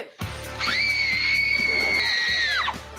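Two characters in an iCarly episode let out a long, loud, sustained scream together, rising sharply and holding steady for about two seconds before cutting off, with no talk over it.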